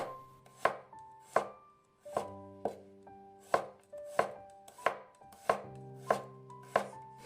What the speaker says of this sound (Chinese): 接着准备1小块生姜，切成薄片， 几瓣大蒜也给它切成薄片